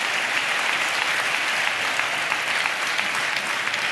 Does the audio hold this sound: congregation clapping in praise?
yes